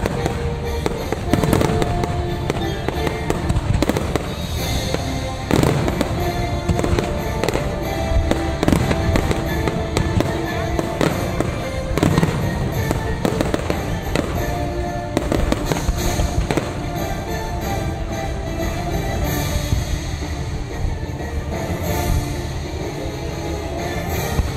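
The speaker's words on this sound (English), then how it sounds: "Or no, that's their fireworks show" Fireworks show at Walt Disney World, with dense, continuous booming and crackling bursts that layer over one another from a distance for the whole stretch.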